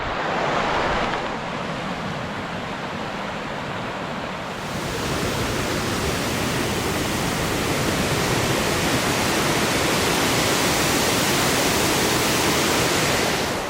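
Water on the Big Pine Creek trail in snowy California mountains gives a steady, loud, broadband rushing roar that continues unbroken throughout with no voices.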